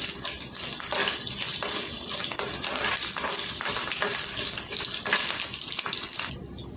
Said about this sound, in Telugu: జీలకర్ర వేసుకుందామండి. ఇందులోనే వెల్లుల్లి రెమ్మలండి ఒక 6-7 ఇదంతా కొద్దిగా వేగాలండి.